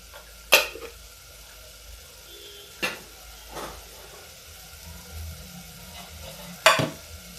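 A spoon stirs Kashmiri chili powder into hot oil for an aloo gobhi curry, giving a few sharp scraping clanks against the pan spaced seconds apart over a faint, low sizzle.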